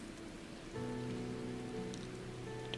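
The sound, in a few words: rain falling in the Final Fantasy XIV video game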